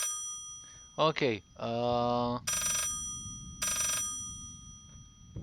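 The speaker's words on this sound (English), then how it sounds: "the phone seems to be sounding from the wall" An old telephone rings from inside a wall in the horror game Layers of Fear, its bursts muffled and fuzzy and coming in a broken pattern alongside other game noises, with someone talking briefly.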